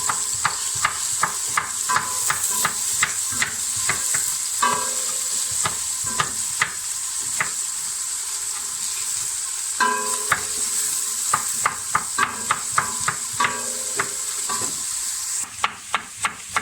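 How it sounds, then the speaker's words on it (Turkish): Onions sizzle steadily in a pot while a utensil scrapes and taps the metal in a quick, repeated stirring rhythm. "Evet soğanımız şu anda pişiyor."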